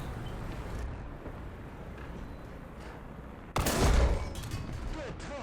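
Six 20mm MG 151 cannons on a Junkers Ju 87 Stuka in a video game fire one loud, dense burst midway, over a steady engine drone with a brief spoken word.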